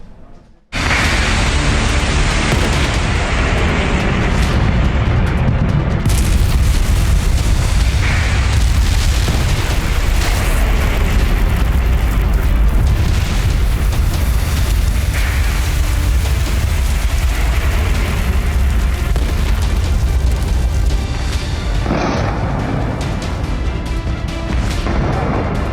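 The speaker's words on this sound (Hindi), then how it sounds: "इजराइल की मिसाइलों का प्रहार, ईरान में हाहाकार।" Israeli missile strikes on Iran: loud explosions and a sustained, rumbling roar, with heavy low booms rolling on continuously at close range.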